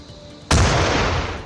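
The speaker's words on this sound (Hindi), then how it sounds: "भीषण धमाके और पूरा इलाका थर्रा उठा" A single heavy bomb blast erupts abruptly after a quiet stretch in an area of Jammu, a loud, broad boom that sustains as a dense rumbling roar for about a second without fading much.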